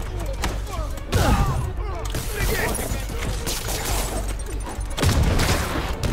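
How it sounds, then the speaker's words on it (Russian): Explosions and gunfire in Marvel's Spider-Man Remastered during a construction-site brawl, loud bursts of booms and shots in a dense, continuous mix with stronger hits near the start and end. "еще взрывчатка пошла, жесть."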